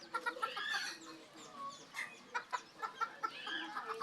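Bantam hen clucking in a series of short, repeated clucks with a rhythmic burst toward the end, close by, alongside other faint bird chatter in the background.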